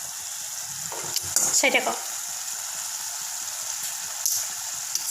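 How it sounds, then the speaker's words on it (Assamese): A mixture coming to a boil on a gas stove in a home kitchen, giving a steady bubbling, faintly sizzling hiss with a brief louder stir or clatter; a voice speaks briefly over it. "উতল আহিছে চাওকচোন"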